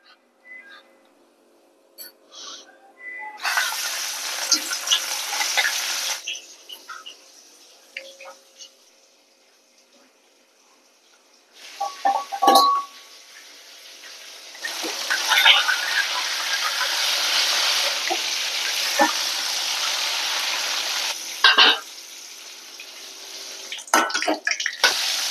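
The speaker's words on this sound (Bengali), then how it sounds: "জিরে, লঙ্কা আর তেজপাতা ফোড়নে দিলাম।" Cumin, chili and bay leaf hit hot oil for tempering before snakehead fish goes in, giving a hissing, crackling sizzle in two long loud bursts with a quieter stretch between them, close by, with no talk over it.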